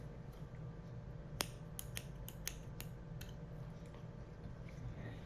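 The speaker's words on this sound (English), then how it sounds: "Scissors are losing their sharpness." Surgical scissors snip suture short after a square knot, several quiet, sharp clicks spaced over a few seconds against a low steady background hum; the blades sound a little dull.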